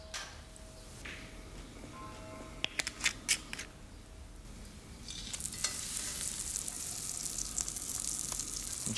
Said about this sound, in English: I'm going to put a little bit of olive oil in a frying pan.